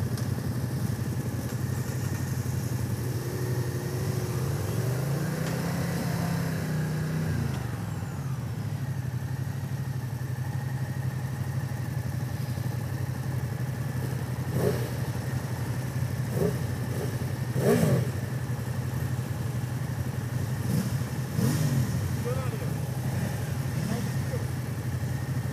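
A Moto Guzzi V100 Mandello motorcycle engine runs steadily throughout, a low continuous drone at a fairly quiet level, with a brief rise in pitch early on as if revved, and a few faint clicks and knocks over the hum.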